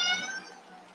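A domestic cat gives a single short meow, close and fairly loud at the start, then trails off into quiet room tone.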